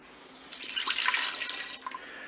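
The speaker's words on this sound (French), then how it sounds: "Et puis je vais mettre mes 300 ml d'eau." About 300 ml of water is poured into a Cookeo pot holding potatoes: a close, steady splashing gush that starts abruptly and runs for over a second before trailing off.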